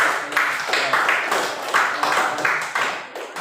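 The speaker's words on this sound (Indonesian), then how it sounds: "Kita beri tepuk tangan untuk kalian semua" A class clapping together in rhythmic bursts of hand claps, fairly close and loud, with a pattern that repeats a few times and then fades out.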